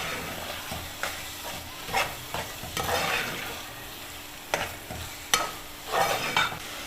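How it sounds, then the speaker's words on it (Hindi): Minced meat keema fries in a pan, a continuous sizzle with irregular scraping bursts as a spoon stirs and turns the meat, close and moderately loud with no talking. "इस कीमे को आपने 2-3 मिनट तक भूनना है।"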